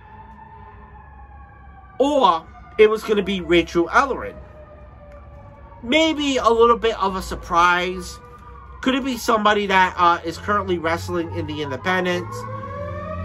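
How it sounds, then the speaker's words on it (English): A wailing siren rises and falls in the background while someone talks over it at length. "That is a siren."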